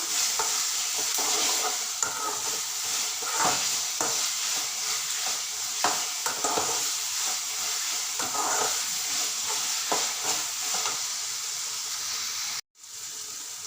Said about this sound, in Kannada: ಈರುಳ್ಳಿ ಆಮೇಲೆ ಬಂದ್ಬಿಟ್ಟು ಟೊಮೊಟೊ ಹಾಕ್ಕೊಬೇಕು ಎಲ್ಲ ಚೆನ್ನಾಗಿ ಫ್ರೈ ಆಗಬೇಕು